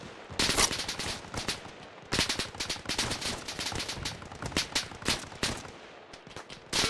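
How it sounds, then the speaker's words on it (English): Rapid volleys of rifle and machine-gun fire from a tank team in the Arma Reforger military shooter during a mountain assault, crisp bursts rattling almost continuously at mid distance with short pauses. "Tango team firing."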